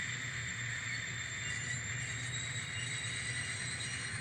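N scale model train running along a layout track, giving a steady, faint, continuous rolling hum and whir for the whole stretch with no breaks.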